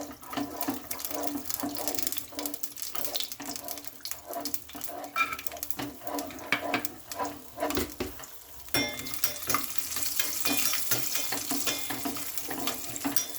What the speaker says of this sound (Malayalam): നമുക്ക് നെയ്ക്കകത്ത് കശുവണ്ടി ഒന്ന് വറുത്തെടുക്കാമേ